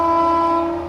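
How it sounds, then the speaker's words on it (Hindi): The 12425 New Delhi–Jammu Tawi Rajdhani Express sounds a long, loud sustained horn while coming up to overtake, near and strong, fading slightly at the end. "इसको ओवरटेक करने आती हुई 12425 न्यू दिल्ली जम्मू तवी जम्मू राजधानी एक्सप्रेस अपनी ट्रेन को ओवरटेक करने आती हुई"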